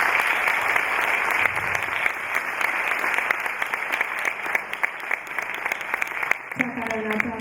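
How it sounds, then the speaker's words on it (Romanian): Audience applause at a book launch, dense continuous clapping that carries on for several seconds before a voice comes in near the end. "în speranța că încă mai aveți aplauze de oferit, propun să le oferim din nou doamnei profesoară Maria Stati"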